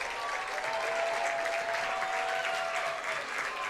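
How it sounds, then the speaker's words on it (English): Stadium crowd at a Michigan Wolverines versus Penn State men's college soccer match applauds and cheers a substituted player leaving the field, a steady, dense wash of clapping with a faint whistle tone running through it. "the crowd is cheering for Buchner as he makes his way off the field"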